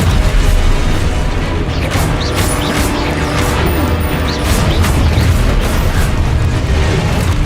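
Spell explosions from the Hogwarts Legacy video game form a dense, loud, continuous barrage of booms, crashes and magical bursts with no pauses.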